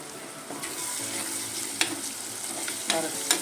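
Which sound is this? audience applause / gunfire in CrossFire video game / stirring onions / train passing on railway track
stirring onions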